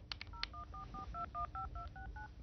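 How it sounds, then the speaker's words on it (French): A voice organizer device dials a phone number, giving a quick run of about a dozen crisp, evenly spaced two-tone beeps that sound close and clear. "Ça t'a composé le numéro de téléphone."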